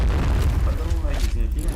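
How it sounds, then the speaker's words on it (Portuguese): A grenade blast in the shooter game Point Blank rumbles as a deep, muffled boom that fades out, with a voice talking over it. "o cara fica atacando granada"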